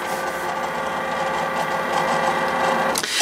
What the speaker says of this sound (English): now you'll see the machine is just having a little hunt for the black lines